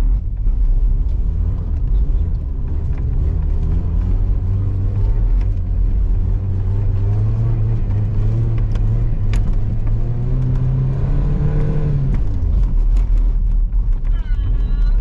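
A pickup truck engine drones loudly and continuously while being driven and drifted on a snowy street, its pitch climbing steadily as it revs before dropping off, with people talking inside the cab.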